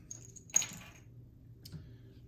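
Dice rolled for a board wargame clatter in two brief, quiet bursts, a sharper rattle followed by a softer second tumble about a second later, with no talking.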